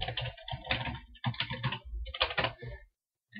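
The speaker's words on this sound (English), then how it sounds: "type your password." Fingers tap quickly on a computer keyboard in short bursts of close, crisp keystrokes, pausing briefly between runs before going quiet.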